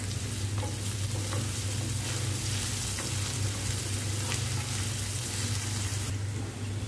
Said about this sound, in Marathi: कांदा चांगला परतून घेते, थोडंसं मीठ टाकते म्हणजे आपला कांदा पण पटकन होईल